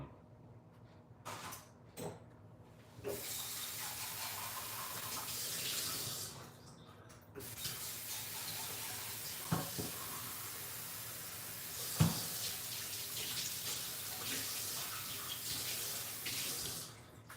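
Water runs from a tap into a container for developing film with caffenol and earl grey, a steady splashing stream that starts and stops a few times with brief knocks, alone and up close.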